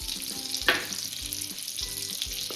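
Butter and about two tablespoons of palm oil fry in a pan for paneer butter masala, a steady close sizzle with crackling, and a soft stirring scrape partway through.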